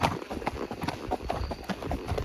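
Horse hooves clip-clop at a steady walking rhythm on firm ground, close and clear, with a low voice murmuring in the background.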